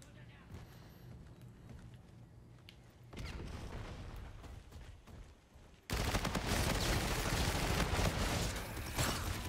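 Call of Duty Infinite Warfare gunfire and booms build in stages, from scattered shots to a loud, sustained barrage, with a voice talking over parts of it.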